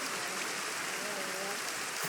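Steady rain in the Minecraft video game, a constant even hiss of falling water filling the whole clip with no breaks.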